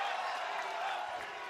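A pro wrestling arena crowd at a women's tag hardcore match roars steadily as fans rise to their feet, a broad sustained cheer that stays level throughout.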